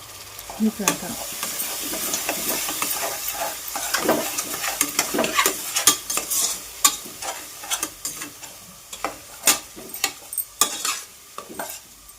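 Kolhapuri black masala, chili powder, coriander powder, garam masala, turmeric and tomato puree frying in oil, stirred close up with irregular metal spatula scrapes and clanks against the pan over a continuous sizzle, without speech.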